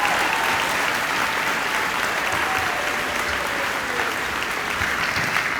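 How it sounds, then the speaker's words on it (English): Sustained applause from the audience at a 2023 distinguished alumni hall of fame school assembly: a loud, even roar of many hands clapping together without a break. "Let's hear one more round of applause from everybody."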